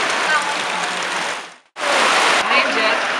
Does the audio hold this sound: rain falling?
yes